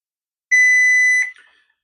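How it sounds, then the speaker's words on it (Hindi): A multimeter set to continuity buzzer mode, used while repairing an inverter air conditioner's outdoor PCB, gives one loud, steady high-pitched beep lasting under a second, then cuts off and leaves a short fading tail in an otherwise quiet room. "जैसा कि मीटर को हमने बजर मोड पे लगाया है, बजर पे लगा के देखते हैं।"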